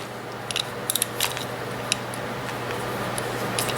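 A Kobalt ratcheting screwdriver clicking in a few quick bursts of sharp, light ticks over a steady background hum, close and fairly faint.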